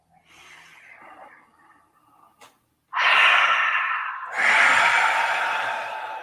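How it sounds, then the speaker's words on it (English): One person takes a deep breath from the belly: a soft, drawn-out inhale, then a loud, breathy exhale released as a sigh, followed by a second strong sighing breath out, close to the microphone. "just breathe deeply from your belly all the way up to your crown"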